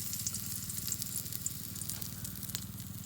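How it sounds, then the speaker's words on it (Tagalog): Garlic sautéing in a pan for pork caldereta gives a close, continuous hiss and crackle with small scattered pops, steady throughout and alone without talk. "Ilalagay ko na yung bawang."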